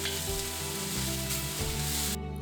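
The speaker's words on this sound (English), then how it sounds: "Heat the wok over high heat, then add in each vegetable and stir fry it for about a minute." Onions, celery, carrots and bean sprouts stir-fry in a wok of sesame oil over high heat, a loud, dense, continuous sizzle with faint scraping of the stirring, no voices.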